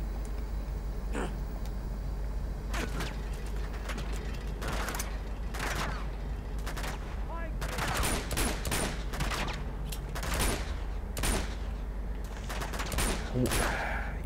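Gunfire in the action video game Uncharted 2: Among Thieves, with repeated bursts of shots at a steady loud level over continuous game ambience, the bursts growing denser toward the end.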